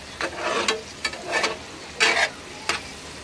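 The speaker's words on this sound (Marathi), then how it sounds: "मसाले परतून घेऊया व्यवस्थित।" Homemade spice masala and chillies sizzle in hot oil in a pan while being sautéed for a bhendi batata fry, with four short stirring bursts of crackle and scrape heard up close, no voices.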